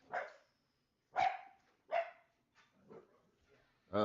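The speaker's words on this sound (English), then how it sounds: "my dog's barking" A dog barks in sharp separate bursts, about four or five over a few seconds with gaps between, fairly close and alone with no talk over it.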